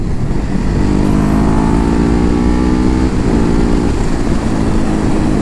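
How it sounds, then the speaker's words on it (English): A Ducati Hyperstrada 939 motorcycle is ridden, its engine droning loudly and continuously close by, with the pitch sliding up and down as the revs change. "I'm riding a Ducati"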